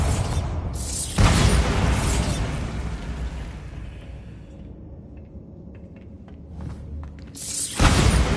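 A Bombarda blasting spell explodes in Hogwarts Legacy, a loud booming burst that rumbles and slowly fades, followed by a second blast starting at the end.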